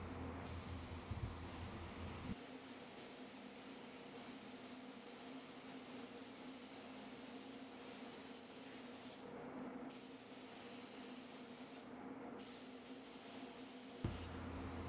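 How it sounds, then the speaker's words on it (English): Devilbiss Tekna Prolite spray gun spraying metallic car paint into a wheel well, a steady close airy hiss running continuously with a couple of brief breaks. "going to spray my offsets first, get inside that wheel well, make sure I have good coverage"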